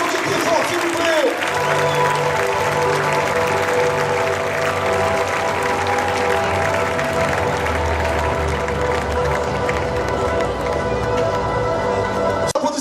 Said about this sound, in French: On peut l'applaudir très fort, s'il vous plaît.